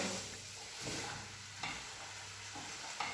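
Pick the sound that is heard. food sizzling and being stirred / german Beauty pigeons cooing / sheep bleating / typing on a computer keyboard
food sizzling and being stirred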